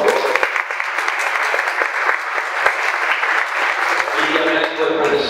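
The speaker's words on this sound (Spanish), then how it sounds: "un aplauso para ella, por favor" A seated audience at a literature talk applauds steadily and fairly close, a dense patter of claps lasting several seconds with no voices over it.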